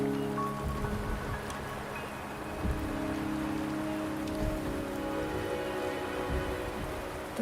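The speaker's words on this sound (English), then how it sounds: "The rain is subsiding" Steady rainfall patters on surfaces with broadband hiss and scattered drips, a soft low rumble underneath, continuous and even throughout with no voices.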